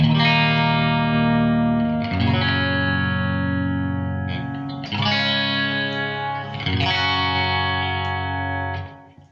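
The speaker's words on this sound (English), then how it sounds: "here is my clean tone" An electric guitar plays sustained chords through an amp in half-watt mode with a clean tone and a touch of reverb, into a Harley Benton 2x12 cabinet with Celestion Vintage 30 speakers; ringing chords change every few seconds, loud and close.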